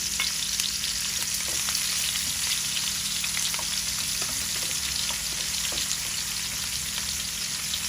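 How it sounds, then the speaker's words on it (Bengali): Bitter gourd fries with onions in a pan, giving a constant close-up sizzle with faint stirring clicks scattered through it, and no voices. "করলা ভাজার জন্য পেঁয়াজ দেওয়া হয়েছে"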